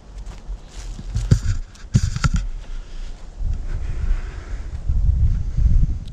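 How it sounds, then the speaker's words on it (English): Chilly wind by a river buffets the microphone in uneven gusts, low rumbling bursts that come and go, with a few sharp knocks of handling or steps near the start. "It is a little windy"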